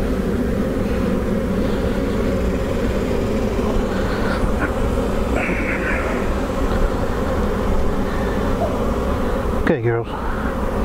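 Honeybees hum around an open hive during a brood chamber inspection, a dense, continuous close buzz that drones throughout, with a person briefly speaking over it and a short handling rustle near the end.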